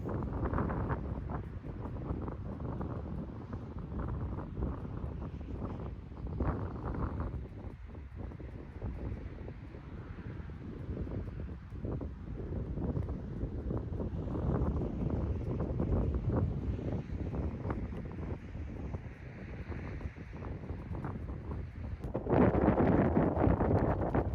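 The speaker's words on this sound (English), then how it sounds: "into a pretty brisk cold wind." Brisk cold wind buffets the microphone on an open golf course, a steady low rumbling roar that persists throughout and swells louder near the end, with no talking.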